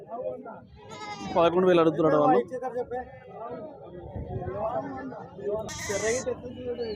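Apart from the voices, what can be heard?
goats bleating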